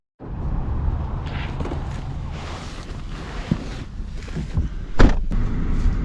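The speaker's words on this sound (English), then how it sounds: "let us set off in the manual Miata" New manual Mazda Miata pulling away and driving, a low engine and road rumble with wind buffeting at the microphone, fairly close and steady, with a few knocks and clicks from the cabin.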